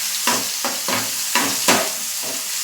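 Chopped tomato and chili fry in a hot pan as the base for homemade wheat-flour noodles. A close, steady sizzle runs throughout, broken by rhythmic scraping strokes of a spoon stirring the mixture.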